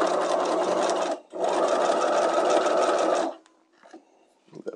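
A sewing machine stitches a seam in two loud, steady whirring runs separated by a short pause, then stops, leaving faint handling clicks.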